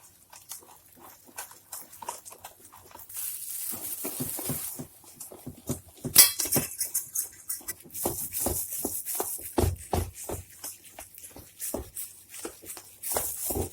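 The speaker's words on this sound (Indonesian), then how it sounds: "Setelah itu kita aduk sampai tercampur." Flour and sifted chocolate being stirred into brownie batter in a bowl, a steady run of soft scraping, tapping strokes close by, quickening in the second half with no talk.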